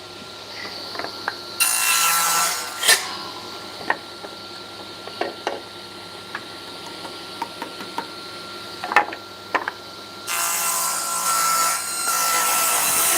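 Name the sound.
blade taking the arris off a wooden edge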